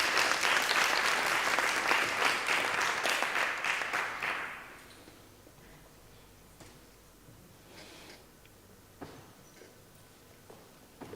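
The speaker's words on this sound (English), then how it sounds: "Round of applause, please." Applause from the audience at the Unisa 2020 academic closing ceremony, given for graduates receiving honours: a burst of dense clapping that fades out after about four seconds, leaving a quiet hall with a few scattered late claps.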